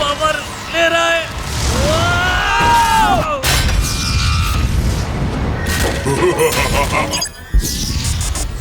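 A loud booming explosion in a dubbed Max Steel cartoon, with crashing, shattering debris and rumbling, followed by swirling sweeps and further impacts under dramatic noise.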